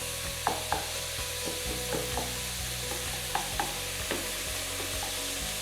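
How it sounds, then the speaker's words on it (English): Minced meat sizzles steadily in a hot pan over high heat for a samosa filling, with sharp intermittent scrapes and taps of a spatula breaking up the lumps; no talking. "While the fire is still on high, start breaking the mincemeat like this."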